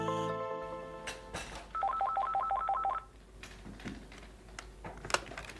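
A telephone rings with a quick electronic trill in a THW Bonn office, alongside scattered computer keyboard typing and clicks.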